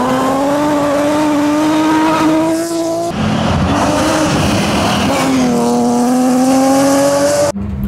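A rally car at the 2025 Tauragė rally drives off with its engine revving loud and close, climbing through the gears with tyre noise, a brief shift break and a sudden cutoff at the end.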